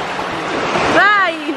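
Sea water at Alimini beach washes in a close, continuous hiss, with a person's voice calling out over it near the end.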